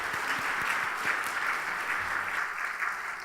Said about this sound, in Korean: 선교사님 오실 때 큰 박수로 찬양하겠습니다.